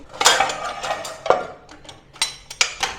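A cutter presses and scrapes through rolled samosa dough on a hard surface, a quick run of close, clicky, crunchy strokes and knocks with uneven rhythm.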